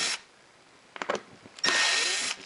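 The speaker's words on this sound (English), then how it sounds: "I'm just backing the screws out" A power drill whirs in two loud bursts while backing Phillips screws out of the wooden corner blocks of an ottoman being stripped for reupholstering, with a few knocks and clicks between the runs, close by.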